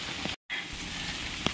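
Rain falls in a steady, soft hiss of drops on surfaces, broken by a brief dropout near the start.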